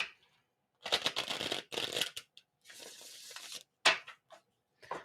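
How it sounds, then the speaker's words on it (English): Tarot cards being shuffled in a few crisp riffling bursts with short pauses between them, close up and fairly loud with no talking. "Let's do one more shuffle."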